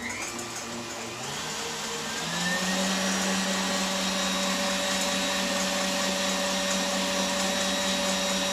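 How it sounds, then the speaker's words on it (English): An electric mixer whisks pavlova meringue of egg whites and sugar, switching on with a rising whir that settles into a steady, loud motor hum lasting several seconds. "Continue whisking until the mixture is stiff and shiny"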